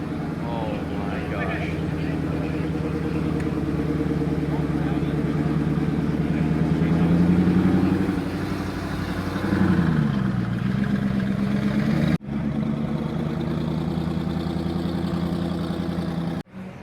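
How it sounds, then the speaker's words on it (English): A Koenigsegg supercar starts up at a large Cars and Coffee show, its engine droning steadily and swelling into a rising rev midway, then settling, all under loud crowd chatter nearby. "As soon as a Koenigsegg starts up the car, look at this crowd."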